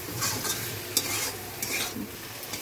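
A spatula briskly stirs a mustard curry of Malabar spinach shoots in a pan after raw oil goes in, with close, continuous scraping over a lively sizzle and one sharp tap of metal.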